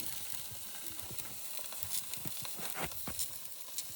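A hot, stuck brake caliper on an old Arctic Cat King Cat snowmobile sizzles steadily as it is cooled, a faint, continuous hiss with scattered crackling pops, heard close up and without talk.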